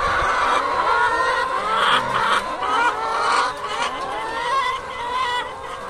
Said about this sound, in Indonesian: Di ayam-ayam di sini sedang menunggu pakan.